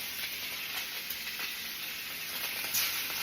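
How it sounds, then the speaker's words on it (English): Marinated pork tenderloin sizzles in a hot pan, a steady, close, crackling hiss with small pops throughout and no talking. "Oh, you hear that sizzle?"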